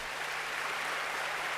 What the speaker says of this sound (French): des applaudissements pour nos parents